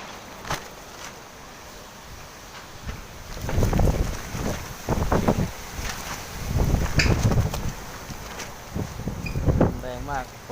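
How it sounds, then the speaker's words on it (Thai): Strong gusts of wind before a rainstorm in Korat, Thailand, buffet the microphone in repeated loud, roaring bursts, with someone speaking in between. "ลมแรงมากเลยเว้ย"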